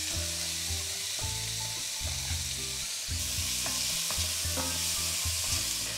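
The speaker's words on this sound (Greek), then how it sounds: "Σοτάρω λίγο το κρεμμύδι" Onion sautéing in very hot oil in a pot, a steady close sizzle that runs the whole way through, with low rhythmic tones beneath it.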